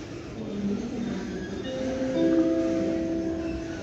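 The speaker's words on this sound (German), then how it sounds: "Caution, the train is arriving." An IC train pulling into platform 2 at Berlin Hauptbahnhof, a steady low rumble with drawn-out metallic squealing tones that swell toward the end, heard alone without voices.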